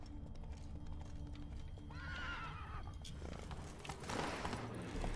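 In The Witcher 3 video game, a horse's hooves clip-clop steadily over a low rumbling background, and a loud whinnying neigh rises in the middle.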